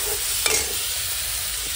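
Onion and tomato frying in a pan while being stirred, giving a steady close sizzle with a brief louder scrape of the spoon near the start; no talking.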